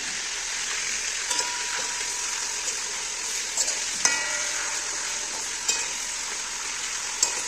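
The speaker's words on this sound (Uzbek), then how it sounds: "Go'shtimizni yaxshilab qovurib olamiz." Meat frying in hot oil for Uzbek chaikhana-style plov, a constant close sizzle with scattered sharp clicks and scrapes of stirring against the pot, no talk.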